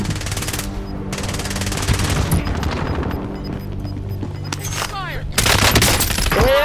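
Loud, close rapid bursts of automatic gunfire fill a final-zone battle royale video game match, firing almost continuously with brief pauses, while player voices come through faintly underneath.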